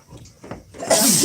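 A single sneeze, probably from a dog, bursts out sharply near the end after quiet breathy sounds, close and fairly loud.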